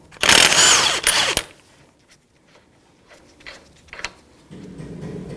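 An impact gun with a 32mm socket rattles a front axle nut loose on a 2009-2014 Nissan Maxima, one loud burst of hammering close up, then quiet with faint shop clatter.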